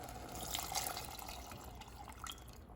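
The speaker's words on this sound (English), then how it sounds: "we're gonna go ahead and add an additional 2 cups of water." Water pouring and splashing steadily into a pot of minestrone soup, a continuous liquid rush with small bubbling fluctuations, close by and fairly quiet.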